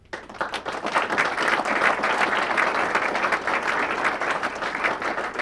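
Audience applause at a chamber of commerce gathering, a dense wash of many hands clapping that swells in within the first half second and holds steady and loud to the end, with no talking over it.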